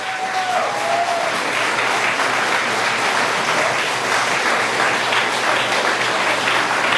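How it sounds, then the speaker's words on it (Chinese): A church congregation applauds a children's band at a Sunday service, sustained even clapping from a large crowd filling the space, loud and unbroken. "我们拍手来谢谢他们"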